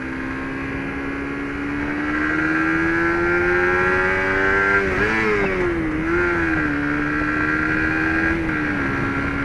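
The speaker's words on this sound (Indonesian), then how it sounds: "Suara knalpotnya enak, ngebas gurih gimana gitu." Suzuki GSX R150 2017 motorcycle exhaust revving: a close, loud engine drone that climbs steadily, dips and swells through a few throttle blips, then settles into a high sustained tone.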